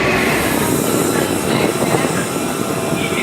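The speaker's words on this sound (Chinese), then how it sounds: "我现在所乘坐的就是被称为法拉利高铁的 Italo。" A steady broadband rumble and whoosh fills the cabin of an Italo high-speed train speeding between Italian cities, loud and constant throughout.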